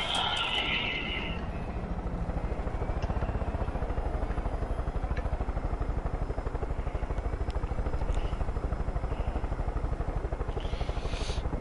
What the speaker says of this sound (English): hey, you're driving the helicopter